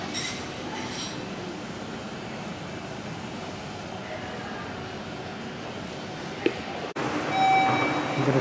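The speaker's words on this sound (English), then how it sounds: "I'm gonna try to ride the subway for the first time." Tokyo subway train in a station, a steady rumbling roar of rolling wheels and carriage noise filling the platform, with a brief clunk and a high electronic tone near the end.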